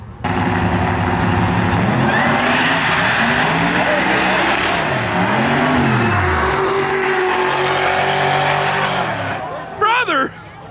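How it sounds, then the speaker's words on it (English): A Cadillac CTS-V and a turbocharged truck drag race down an eighth-mile strip at a Street Car Takeover event in Houston. Loud engines roar with rising pitch sweeps through the gears, then fade near the end, with a brief final burst. "Very pretty CTSV versus a turbo truck."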